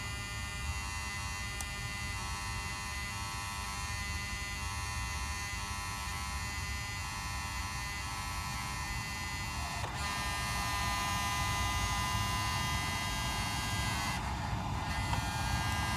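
A steady electric hum from the throttle bodies of a Mercedes 600SL self-calibrating drones on with a faint buzz; near the end the tone shifts slightly and a brief higher whine appears.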